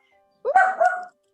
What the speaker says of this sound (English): I hear little puppies.